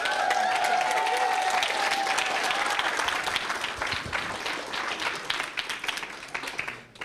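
A keynote audience bursts into full, dense applause that holds steady for several seconds, then thins into scattered claps and fades out.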